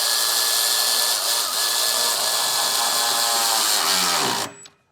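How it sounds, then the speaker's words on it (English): A power tool whirs steadily while tightening the intercooler boot clamps and V-band on a second-generation Cummins engine, running continuously for about four seconds before winding down and stopping. "all you have to do now is just go around, tighten up clamps"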